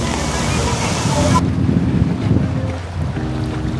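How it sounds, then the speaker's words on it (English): Waves wash over the rocks of a Miami beach under strong wind buffeting the microphone, a steady loud rushing roar that fills the whole stretch. "Sitting in the rocks on the beach."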